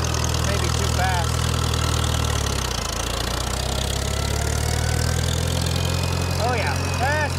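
An old tractor engine runs steadily in high gear, a loud continuous low drone with a faint knock that holds through the whole stretch, while people talk briefly over it.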